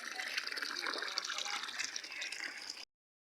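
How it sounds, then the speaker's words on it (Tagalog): Abundant mountain-sourced water gushes and splashes freely from a pipe in a rural village, a steady close rushing flow that cuts off abruptly near the end. "Wasawas ang tubig"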